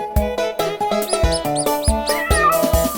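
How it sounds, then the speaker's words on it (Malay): Cartoon cat meows and high, rising mouse squeaks sound in quick succession over a bouncy, rhythmic children's song melody, loud and close throughout. "Mari berkenalan dengan tikus dan kucing."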